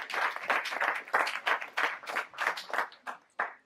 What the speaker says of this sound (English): So let's give CLAL a big round of applause.